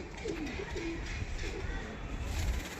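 Male Kalanka pigeon cooing in a loft, several soft low repeated coos at a steady rhythm, faint and close, over a quiet background hum.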